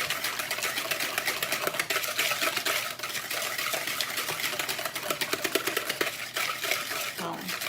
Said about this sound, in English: I'm gonna whisk those together until they're light and fluffy